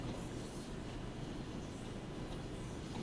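Freight train rolling in Train Sim World 2 on the Sand Patch Grade, a faint, steady low rumble of rail wheels and cars with no breaks or talking.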